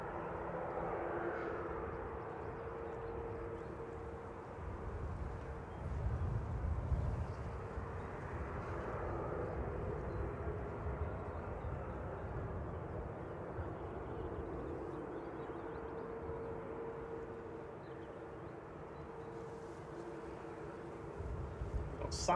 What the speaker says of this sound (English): Got SAS heading out now.